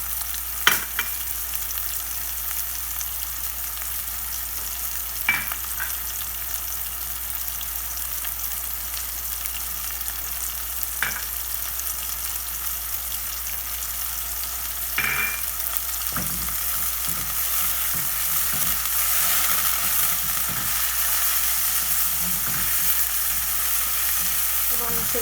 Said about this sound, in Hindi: बस हमने हल्का सा सौटे करना है।